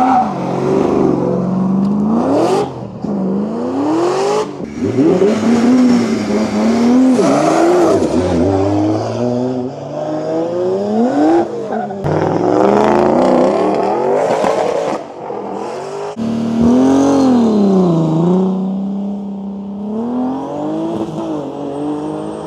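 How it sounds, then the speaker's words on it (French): A V8-powered drift car at a French Drift Championship round in Val de Vienne, engine revving hard and near, with repeated rising and falling pitch sweeps as it accelerates and slides, loud and continuous without pause. "Là regardez, on a encore une 30 V8 qui s'amène."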